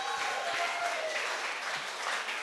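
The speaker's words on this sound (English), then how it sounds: "Give them a round of applause." A comedy night crowd at a sober café gives a round of applause: steady, dense clapping from many hands, even and sustained at a moderate distance, with faint chatter underneath.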